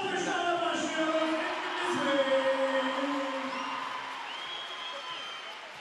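A large crowd applauding and murmuring at a VakıfBank vs Eczacıbaşı VitrA volleyball match in the Champions Cup, a steady wash of clapping and crowd noise with chanting tones, fading slightly toward the end.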